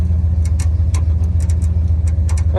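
A vehicle engine idles with a loud, throbbing low rumble while a slow winch pulls. Light rhythmic clicks from the winch mechanism tick irregularly over the steady drone.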